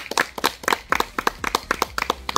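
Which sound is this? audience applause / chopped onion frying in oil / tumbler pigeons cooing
audience applause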